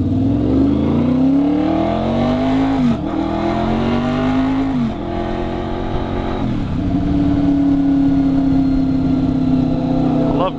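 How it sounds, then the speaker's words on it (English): A car's loud exhaust roars continuously while driving past a fence, with engine pitch rising and falling through gear changes and reverberation off the fence. "It kind of gives you the reverb from the exhaust."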